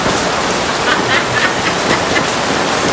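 Steady rain falls as a dense, even hiss of droplets filling the whole span, loud and close with no break, as if beating on a nearby surface.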